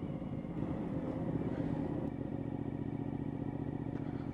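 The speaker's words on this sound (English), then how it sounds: "Because I'm on an adventure bike, innit?" A Suzuki V-Strom 1000 adventure motorcycle being ridden, its engine a steady, close, throbbing drone with a constant low rumble and wind, with no voices.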